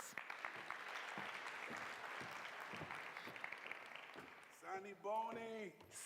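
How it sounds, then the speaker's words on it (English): A conference audience at a church gathering gives a sustained, faint round of applause, with a voice speaking over it as the clapping fades near the end. "please give him another round of applause"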